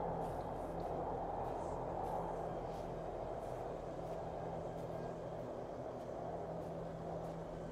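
A train rumbling steadily in a horror video game, a continuous low mechanical drone with a faint hum throughout, heard alone without talk.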